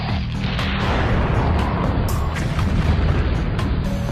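Railgun projectiles striking and exploding on targets, making a dense, continuous rumbling roar of blasts with loud low-end booms throughout, heard without speech.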